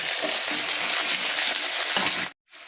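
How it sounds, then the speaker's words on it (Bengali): Potato and onion pieces fry in hot oil in a pan with a dense, loud, steady sizzle close by. The sizzle cuts off abruptly near the end, then returns more quietly. "এবার আলুটা পেঁয়াজটা খুব ভালো করে লাল লাল করে আমি ভেজে নেব"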